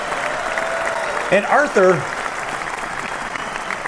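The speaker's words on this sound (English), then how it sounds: "why don't you give a nice round of applause" Applause from a studio audience on a sports talk show runs softly underneath as someone speaks briefly over it.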